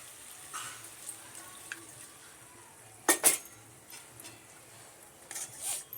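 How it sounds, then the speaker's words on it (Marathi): A little water goes into a pan of fenugreek leaves and moong dal in one short splash midway, with quiet kitchen background before and after. "आणि थोडासा पाणी टाकायचं"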